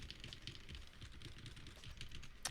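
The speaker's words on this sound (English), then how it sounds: "It's gonna be kind of weird typing though." Rapid, steady keystrokes on a budget 60% ANSI keyboard, heard up close with an even clatter and no talking.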